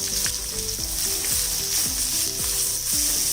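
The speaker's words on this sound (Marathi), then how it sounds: "यामध्ये थोडासा कांदा घालायचा." Chopped onion sizzles steadily in hot oil with curry leaves in a pan for Kolhapuri misal, a loud continuous fry with no voices.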